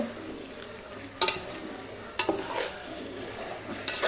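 Marinated chicken stirred into a sizzling biryani pot, a low constant fry with three sharp scraping strokes of a spoon against the pot, close and without speech.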